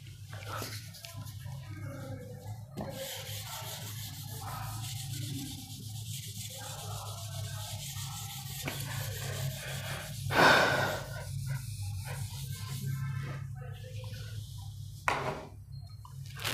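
Writing being rubbed off a board with soft, continuous scrubbing and brushing strokes, close and quiet, broken by a couple of sharper swipes, with no talking.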